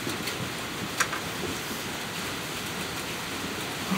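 Steady rain falling outdoors, a continuous even hiss with occasional distinct drops, no voices.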